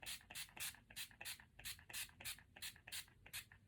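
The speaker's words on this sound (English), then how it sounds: "I spray my face with this" A refreshing and setting face spray mists onto a face in about a dozen quick, close hissing bursts, fired in a fast, fairly even rhythm.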